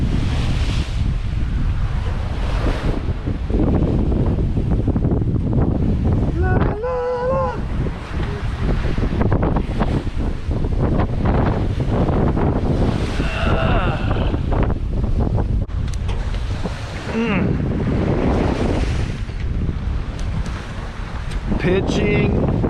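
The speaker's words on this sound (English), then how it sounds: "Pitching into the head seas." Sailboat pitching into head seas in a six-foot chop, with loud steady wind buffeting and waves surging and crashing against the hull throughout, and brief bursts of voice between the gusts.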